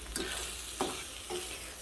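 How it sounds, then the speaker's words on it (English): Food fries in butter in a pan, a soft steady sizzle with a few quiet scrapes of stirring, close and low in level, with no talking. "I'll let these fry up in some butter."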